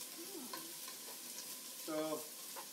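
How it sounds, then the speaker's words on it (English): Peppers sizzle in hot olive oil in a pan, giving a steady, fairly quiet frying hiss with a few soft stirring scrapes and clinks and no talking. "Oh yeah, listen to that sizzle."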